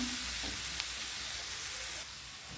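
Chopped cabbage frying in a pan, a soft steady sizzle with faint stirring scrapes near the start, quiet and close with no voices.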